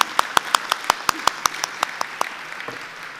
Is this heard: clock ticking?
no